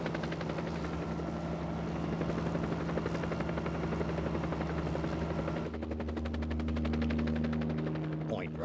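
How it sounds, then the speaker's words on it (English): Helicopter rotor blades chop in a fast steady beat with a droning engine hum beneath, loud and continuous, the pitch of the whine shifting partway through as the aircraft changes its motion. "This is the chopper's tail rotor."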